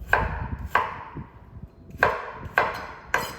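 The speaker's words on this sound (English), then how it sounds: "I take them and cut them in thirds, then I cut them a couple more times across." A knife chopping potatoes into pieces on a cutting board for mashed potatoes, five crisp, evenly spaced strikes ringing out close and clear with soft handling noise between.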